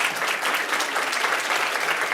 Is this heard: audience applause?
yes